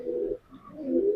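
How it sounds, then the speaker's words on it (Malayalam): Pigeons coo in a loft, with two soft, low, rounded coos close by and a short pause between them. "അടുത്ത കുറച്ച് പ്രാവ് കൂടി ഉണ്ട്"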